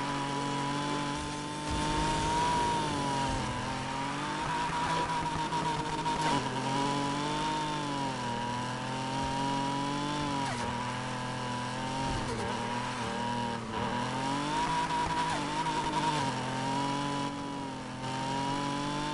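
A McLaren car engine in the racing game Need for Speed Heat revs loudly and continuously, its buzzing pitch rising and falling in repeated sweeps throughout.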